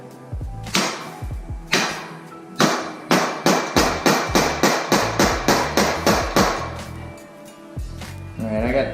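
Metal hammer blows ring out as a part is hammered into a BMX bike frame, a steady series of about a dozen evenly spaced strikes after a few slower taps, close and loud.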